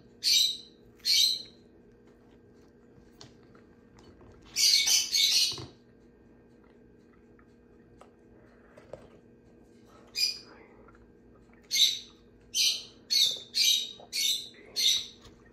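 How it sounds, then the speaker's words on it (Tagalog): Shrill lovebird squawks come in short bursts, a few early, a cluster in the middle, then a rapid run of repeated calls near the end over a quiet hum. "Every morning, maingay yung mga lovebirds."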